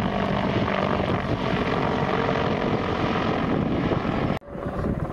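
A helicopter flies at the Royal International Air Tattoo at Fairford, a loud continuous rotor and engine roar that holds steady before cutting off abruptly near the end.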